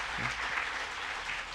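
Congregation applause at a New Year's Eve church service, a steady, moderately loud wash of many hands clapping, with a brief low voice murmur near the start.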